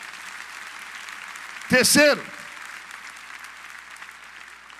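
Church congregation clapping for the Lord during a sermon, a soft continuous patter of applause under a preacher's brief spoken word and a short loud vocal burst in the middle.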